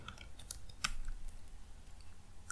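Fingers tap out a short pip3 install command on a computer keyboard, a quick run of light, uneven keystrokes with one sharper click near the start, close by and with no talking.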